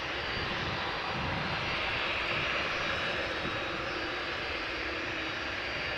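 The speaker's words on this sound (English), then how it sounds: "Delta Airlines Flight 164 having landed on Polderbaan just now" An 18-year-old Delta Air Lines Airbus A330-300 from Minneapolis after touching down on Schiphol's Polderbaan, a continuous even jet engine rumble and hiss heard from some distance, unbroken and without speech.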